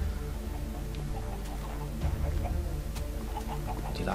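Blocky chickens clucking inside a high-tech chicken farm in Minecraft on Xbox 360, a steady busy bed of overlapping clucks and ticking game sounds at moderate level, with no talking.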